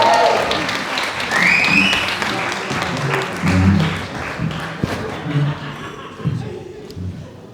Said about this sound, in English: Massive round of applause for Ian